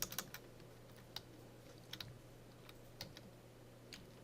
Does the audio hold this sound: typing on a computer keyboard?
yes